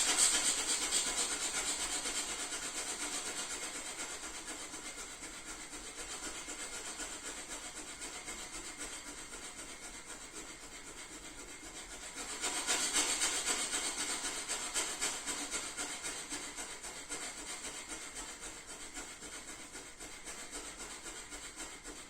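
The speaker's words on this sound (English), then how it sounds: "From the nose, we are going to breathe heavily for 30 seconds." Heavy, forceful nasal breathing during a yoga session, a continuous rough rushing sound with rapid rhythmic pulses, swelling louder partway through.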